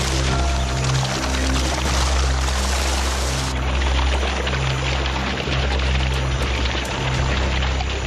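Continuous churning and splashing of water in a South American wetland, loud and dense throughout, as many fish thrash and leap at the surface during an attack, with a low rumbling undertone.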